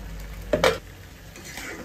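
Spiced water poured into masala frying in a pan for Bengali chicken kosha, a short loud hiss and sizzle burst midway over a steady low frying sizzle, no talk.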